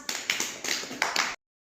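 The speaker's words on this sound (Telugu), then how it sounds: "క్లాప్స్" A small group of children claps together briefly, about a second of quick, slightly uneven claps, fairly close, then stops abruptly.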